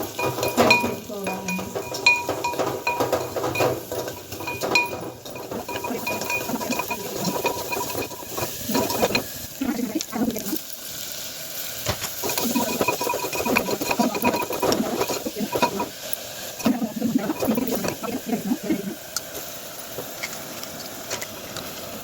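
Onions fry in a pan for a crab masala curry, a steady close sizzle and hiss with occasional clinks of a spoon against the pan, running continuously without speech.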